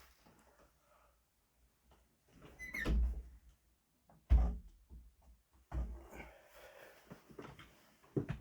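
An indoor door moves in the draft from an open window, giving a few dull thunks and knocks spread over several seconds with quiet gaps between.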